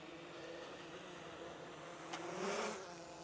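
A DJI Air 3 drone descends to land, its steady motor whine droning continuously at a constant level with a slight swell near the end.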